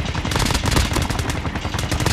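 Rapid automatic gunfire from Call of Duty Mobile battle royale gameplay, dense continuous bursts of shots filling the whole stretch at loud, close range.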